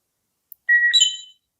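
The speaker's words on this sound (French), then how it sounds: "On a entendu le bip." A beep from an Aosu security camera as it scans a QR code shown on a phone: a short, clear electronic chirp with a quick two-tone rise, standing alone in a quiet room.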